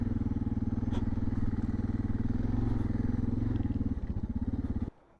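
A motorcycle rides along a riverside ranchers' route in Sonora, Mexico, its engine running loud, close and steady with a throbbing rumble before cutting off abruptly just before the end.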